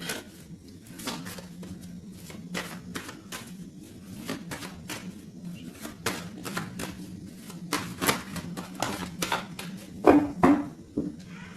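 A deck of playing cards is shuffled and cut at a tarot-style reading, giving a run of quick riffling bursts and snaps, close and fairly soft, with a louder flurry near the end and no talking.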